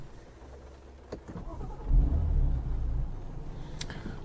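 A 2017 BMW M4 Convertible engine cranks and fires into a low rumbling idle for about a second, then settles, with a faint click afterward and no talking.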